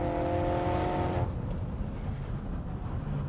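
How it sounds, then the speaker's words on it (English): Ford Focus RS engine heard from inside at speed, a loud steady roar with a droning tonal note that cuts off as the throttle lifts, leaving a broad rumbling road and exhaust noise. "You can hear a fantastic crackle from the exhaust as well. Every time you lift off the throttle, it just makes this wonderful noise."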